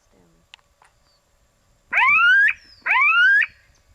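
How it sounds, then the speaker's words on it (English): Smooth-billed ani alarm call perched high atop a tree: two loud, rising nasal whining notes, each about half a second long, given in close succession after a brief quiet stretch with faint clicks. "And so that was the Ani alarm"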